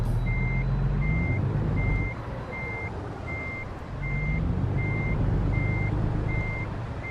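A heavy truck with a trailer backs up in the American Truck Simulator game, its reversing alarm beeping in an even repeated pattern over a loud, steady diesel rumble that dips briefly and then swells again.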